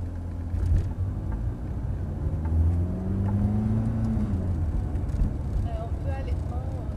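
Ferrari F430 pulling away and accelerating from inside the car, a steady low engine rumble rising in pitch as revs climb, with people talking over it throughout.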